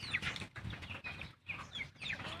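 Rhode Island native chickens cluck softly nearby in a farmyard, a faint series of short, irregular clucks and chirpy calls in quick bursts.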